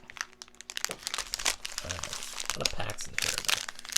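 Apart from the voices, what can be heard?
tearing open trading card packs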